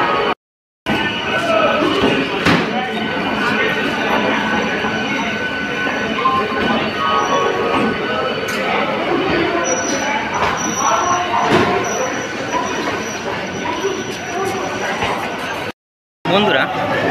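A Howrah–Amta local train stands at a busy station platform on a Sunday morning, its rumble and rail noise running steadily under crowd bustle and station announcements.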